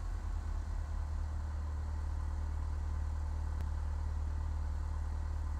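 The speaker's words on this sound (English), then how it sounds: "Start the engine up." A small aircraft engine in Flight Simulator X turns over and settles into a steady, low droning idle with a rough rhythmic throb, heard alone and fairly quiet throughout.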